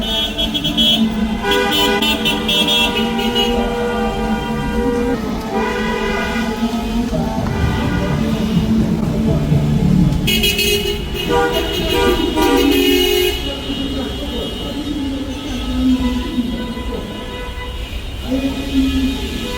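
Impatient drivers honk nonstop in city-centre traffic in Cape Verde, with overlapping horn blasts of different pitches, some long and some short, over a constant traffic rumble, loud and close.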